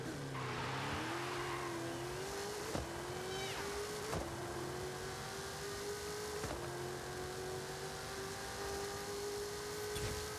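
In Forza Horizon 5, a truck launches off the line in a half-mile drag race, its engine note rising and holding steady at high revs for about ten seconds, with periodic sharp gear-shift breaks and no talk.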